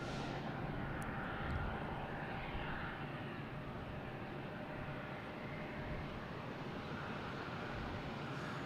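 A Delta Embraer E175 jet at Boston Logan produces a distant, broad engine roar that stays steady and fairly faint throughout, with no voices over it.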